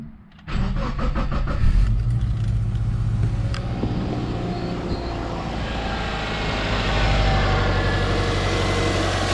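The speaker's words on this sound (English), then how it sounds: "She sounds about as good as a single cam Subaru ever does" A single cam Subaru engine cranks briefly, catches and settles into a steady, loud idle that runs on with a rough, even drone close by.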